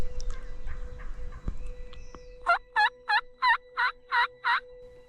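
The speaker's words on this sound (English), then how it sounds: "the turkeys were vocal and active, gobbling steadily until shortly after they flew down from the roost" Wild turkeys in Michigan gobble at dawn: faint distant gobbles at first, then a close, loud run of seven rapid rhythmic gobbles, over quiet outdoor ambience.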